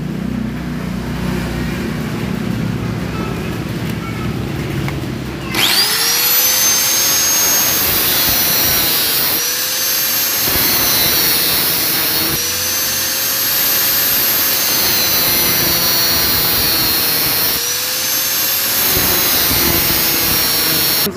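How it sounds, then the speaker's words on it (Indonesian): An angle grinder switches on after a few seconds of quiet and whines steadily and loudly, close up, dipping in pitch several times as it bears down on a motorcycle ignition pulser part. "kita gerinda dulu."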